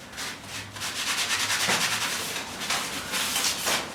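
A wire brush scrubbing thick, hardened grease off a frame in a garage, a close, harsh scratching in rapid back-and-forth strokes with no voices.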